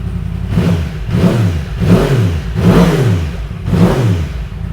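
A Yamaha R1 motorcycle engine idles close by after spark plug replacement, with a steady, lumpy putter that swells and dips roughly once a second; no one speaks.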